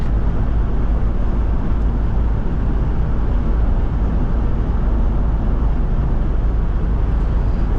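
A 2000 Chevrolet Blazer LS accelerating hard on a test drive, a steady loud engine and road roar heard from inside the cabin, continuous and dense with no talk.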